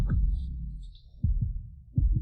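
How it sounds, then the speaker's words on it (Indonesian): A fast heartbeat sound effect throbs in deep, muffled double thumps, close and alone, repeating in quick pairs with a faint high shimmer above. "Napas panas, detak jantung cepat."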